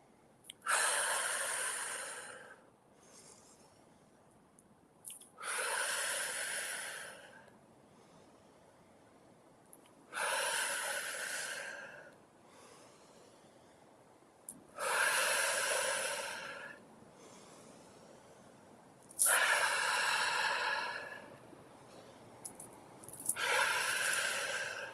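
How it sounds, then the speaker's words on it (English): Slow deep breathing exercise: roughly five long, airy breath cycles spaced a few seconds apart, close and soft, with no talking. "So we're going to do a few of these breaths together."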